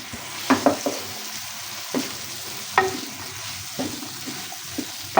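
Vegetables roasting in a pan for spaghetti, a steady sizzle and frying hiss broken by several clanks and scrapes of stirring.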